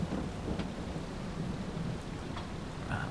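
Rain and thunder in Farming Simulator 22 roll on steadily, a low continuous rumble under an even hiss of rainfall, with a few faint drips and ticks standing out near the end.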